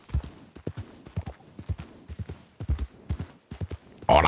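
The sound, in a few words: horse-drawn cart approaching, hooves clip-clopping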